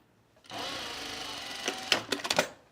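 A sewing machine stitches shirt layers together in a close, steady mechanical whir lasting about a second and a half, ending in a few short sputtering bursts as it stops and starts.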